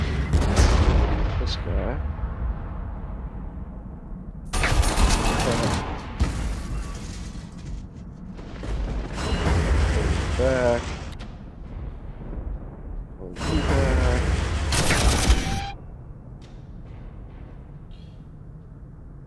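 Cannon and artillery fire in a Warhammer 40000 battle arrive as several heavy booming blasts with long rumbling decays, spaced a few seconds apart. Someone speaks briefly between them.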